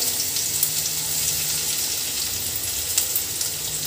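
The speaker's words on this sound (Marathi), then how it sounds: "तेल आपलं तापलं आहे तर आपण आता त्याच्यामध्ये लसूण घालूया" Garlic sizzles in hot cold-pressed oil, a steady close crackle of frying that holds at an even level throughout with no talk.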